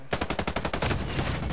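Rapid automatic gunfire from a weapon in the video game Ghost Recon Breakpoint, a loud, close burst of evenly spaced shots that blurs into a sustained roar.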